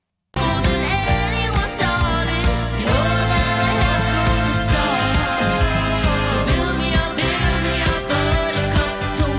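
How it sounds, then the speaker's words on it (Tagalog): A full band performance, with a keyboard playing a trumpet-like brass lead over steady drums and bass. The music is loud and continuous throughout, with no talking. "Ganda nun, no? Parang trumpet."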